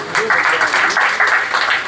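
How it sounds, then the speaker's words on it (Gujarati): Audience applause at an honour ceremony during Guru Purnima at a Gujarati ashram, a steady crowd clapping that carries through the whole moment, close and fairly loud. "આપણે સૌ આ સન્માનને તાળીઓથી વધાવીશું"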